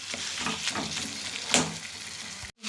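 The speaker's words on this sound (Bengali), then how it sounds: "এইভাবে ভেজে বেগুনগুলোকে পুরো ভেজে দেবো" Eggplant frying in a pan as it is mixed and stirred, a soft continuous sizzle with brief scraping bursts from the stirring, fairly quiet, ending in a short dropout.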